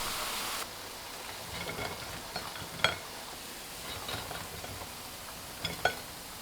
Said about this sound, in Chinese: 炸至拿起一个肉片，看到表面呈这种金黄色，关火，控油出锅。